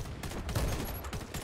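Brief, rapid burst of gunfire in the shooter game Warface, a dense cluster of sharp shots over about a second and a half, fairly close.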